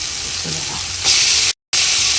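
Dill, coriander and parsley drop into a hot pan with crabs and fry, a loud close sizzle that swells briefly after the herbs go in, broken by a short gap.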